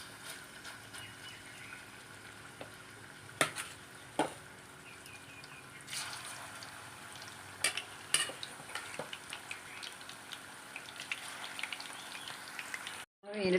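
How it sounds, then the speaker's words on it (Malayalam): Fish frying in hot sesame oil for fish pickle, a soft steady sizzle with scattered sharper pops and crackles, quiet and close, without talk. "മീനിട്ട് കൊടുത്തിട്ട് 2 പ്രാവശ്യമായിട്ട് നമുക്ക് വറുത്തെടുക്കാം കേട്ടോ"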